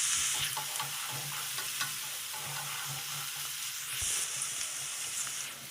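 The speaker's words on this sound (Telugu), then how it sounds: "లో ఫ్లేమ్లో ఫ్రై చేసుకోవాలండి." Onion pieces fry with turmeric and salt in a pan over a low flame, a soft steady sizzle broken by scraping stirs and a few clinks, close, with no speech.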